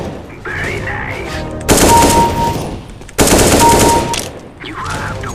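Bursts of automatic gunfire from a Counter-Strike match, two long loud volleys of rapid shots separated by quieter game sounds with a faint voice in between.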